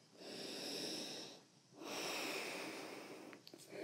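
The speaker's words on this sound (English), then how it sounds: "Take a deep breath in." A child draws a long, deep yoga breath in, a soft airy rush close to the mic, pausing briefly before a second long inhale.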